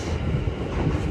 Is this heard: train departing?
yes